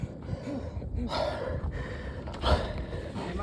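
Heavy, ragged panting from an exhausted hiker at a campsite, rapid gasping breaths repeating close to the listener over a noisy outdoor background, with no clear talk.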